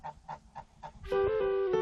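A goose honks in a short burst of several loud, nasal calls close by, first spaced honks then a sustained run of harsher overlapping honking, while it builds a new nest for laying eggs.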